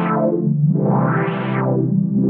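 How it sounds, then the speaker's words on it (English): Synth pad runs through a ReaEQ low-pass filter in Reaper, its brightness sweeping upward and then closing back down, giving a smooth, loud, sustained whoosh with no voice over it. "let's create a low-pass filter"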